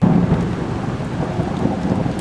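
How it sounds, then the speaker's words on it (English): A thunder and rain sound effect from a website: steady, dense rainfall with a low, continuous rumble of thunder, loud and unbroken throughout, with no voices. "if I want to create a lightning sound, just like that. Or if I want to act like it's raining outside"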